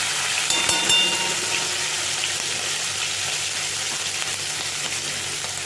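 Ginger, chili and garlic paste frying in hot oil with a pinch of asafoetida for Hakka noodles, giving a loud, steady, close hiss of sizzling that holds evenly throughout, with no talk.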